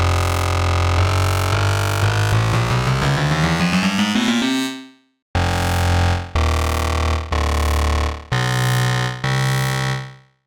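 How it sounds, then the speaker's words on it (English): A loud, thick dubstep bass tone from Ableton Drift, its first oscillator's shape modulated by an LFO, wobbles and sweeps upward in pitch, cuts out, then returns as a series of sustained held notes. "With the LFO set on the shape of the first oscillator, it sounds like this."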